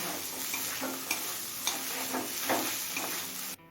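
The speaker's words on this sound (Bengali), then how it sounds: "মিডিয়াম ফ্লেমে চিকেনটা আরও মিনিট পাচ্ছে ভেজে নিয়েছি" Egg-coated chicken for a chichinga dish frying on a medium flame, a steady close sizzle with a few soft clicks of stirring, cutting off abruptly near the end.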